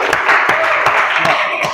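Classroom audience claps in a brief round of applause, with scattered hand claps under a voice talking.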